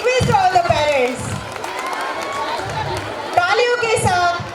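Parents in a school audience at an annual programme cheer and clap for a student welcome dance, a loose crowd roar with scattered claps under a loud voice speaking over a PA.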